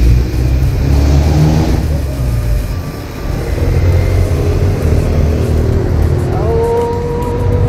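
A jeepney rolls past on a quiet inner street near Judge Jimenez and Tomas Morato Avenue, its engine rumbling loud and steady, swelling then easing away, with a faint rising whine toward the end.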